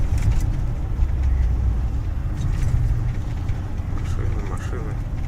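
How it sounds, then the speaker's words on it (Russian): Cars pass on a city street in Sim at night during a snowstorm, a steady rumble of traffic and tire noise heard from inside a moving vehicle. "Машины."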